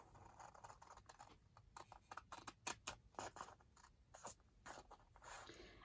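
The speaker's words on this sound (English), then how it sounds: "Okay, scissors it is." Scissors snipping paper while making mini craft booklets: a quiet series of sharp, irregular clicks and cuts close by, with no voices.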